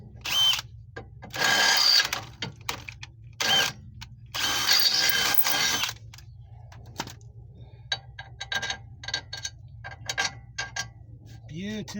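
A power drill bores out a ball joint on a 2007 Pontiac Torrent, running in several loud bursts of a second or two each, broken by quieter clinks and rattling of parts and tools.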